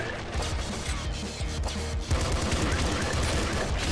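Automatic weapon gunfire in the video game Nuclear Throne, a dense continuous rattle of rapid shots mixed with impacts and game effects, loud and unbroken.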